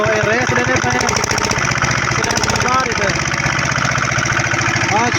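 A Petter 6 horsepower engine runs with a steady, loud, rapid chugging that continues throughout, close by, while people talk over it.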